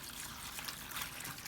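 Water trickles steadily over lotus root soaking in a vinegar-water bath, a soft continuous dribble heard close up with no voices.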